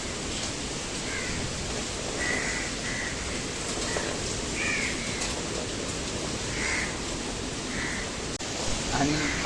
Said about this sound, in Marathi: पाऊस आणि वारा बघा किती सुटलाय